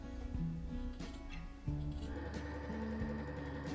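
A sewing machine stitches the seam allowances of a jacquard jacket together, running in a steady close whir for a few seconds, with faint clinks mixed in.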